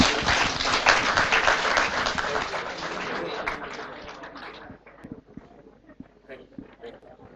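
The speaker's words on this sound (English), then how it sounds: "Please give a huge round of applause." Audience applause at a speaker session, a full round of clapping that gradually fades after about four seconds into scattered individual claps and faint background murmur.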